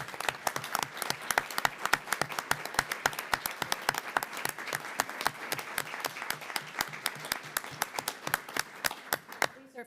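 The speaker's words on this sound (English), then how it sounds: "I would love to give you a round of applause" An audience applauds leadership program participants, a dense crowd of many hands clapping in brisk, continuous rhythm for nearly ten seconds, moderately loud and tapering slightly at the end.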